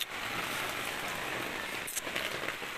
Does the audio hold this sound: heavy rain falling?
yes